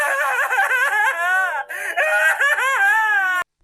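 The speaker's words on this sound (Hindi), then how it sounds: "उनके पीछे वही धीमी रोने की आवाज आती रही।" A soft, wavering wail of crying in a horror story, a continuous mournful voice that rises and falls, breaks off briefly midway, then resumes before stopping abruptly.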